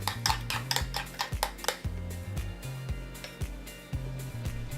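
Mayo and Dijon mustard mixed briskly in a bowl, a utensil clacking and scraping against the sides in quick rhythmic strokes, close and clear with no talking.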